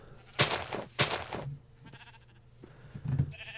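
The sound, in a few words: sheep bleating in a Minecraft modpack video game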